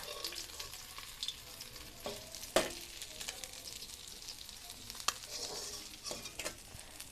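Bhola fish pieces fry in oil with a soft, steady sizzle and occasional sharper pops and crackles, quiet and continuous, with no voices.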